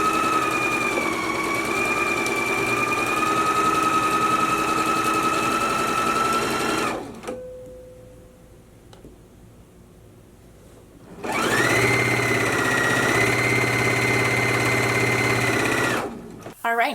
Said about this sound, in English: now we can take them both to the machine and stitch them down